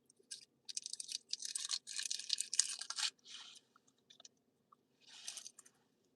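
Close, wet gum chewing in quick bursts of smacking and crunching, pausing briefly between rounds, with no talk.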